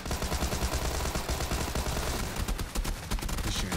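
Continuous automatic gunfire in Fortnite, loud and dense rattling bursts filling the whole stretch without talking.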